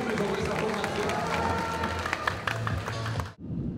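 Roadside spectators clap and cheer as a cycling team sets off on the opening time-trial stage of the 53rd Giro Valle d'Aosta, a dense burst of close applause that cuts off sharply near the end.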